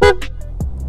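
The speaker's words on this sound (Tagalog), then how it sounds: "So i-sound check natin ang ating busina." A short, loud motorcycle horn blast from a Honda Click 125i scooter at the start, followed by a second brief honk and faint tonal traces, in a quiet setting.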